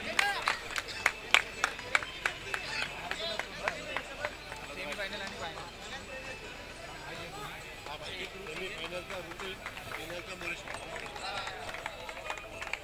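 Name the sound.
applause for the champion cricket team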